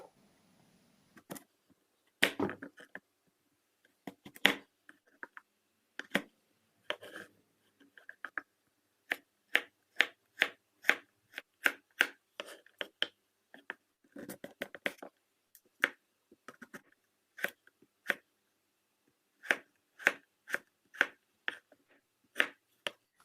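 Crisp knife chops through sweet potato into cubes against a cutting board, dozens of quick taps in irregular bursts, close by with short quiet gaps between.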